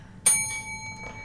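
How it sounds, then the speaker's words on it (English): A single bell ding rings out bright and clear, its tone sustaining and slowly fading, with a faint second tap near the end. "Ding that bell one more time."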